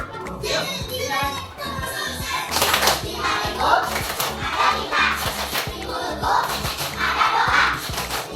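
Schoolchildren in an Indonesian classroom clap together in rhythmic bursts, mixed with chattering young voices and a teacher's speech throughout, fairly close and busy.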